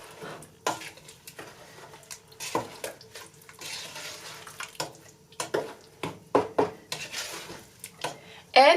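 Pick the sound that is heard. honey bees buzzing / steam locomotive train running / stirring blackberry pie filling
stirring blackberry pie filling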